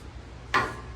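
Silicone dry lubricant is sprayed from a can onto a lathe: one short, close hiss that bursts in suddenly midway and fades quickly over a quiet background.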